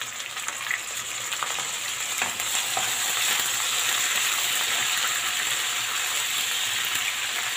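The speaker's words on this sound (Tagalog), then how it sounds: "Gisa na natin ito." Liver sautéing in a hot pan for pancit bato, a steady loud sizzle that builds slightly and holds, with faint stirring scrapes and no talking.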